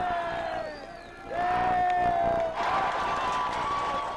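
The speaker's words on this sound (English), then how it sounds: "The big cheer when the Giants went ahead" A sports bar crowd of San Francisco Giants fans bursts into loud cheering and whoops as the team goes ahead, the roar swelling midway and holding, with a thin tonal whistle riding over the din.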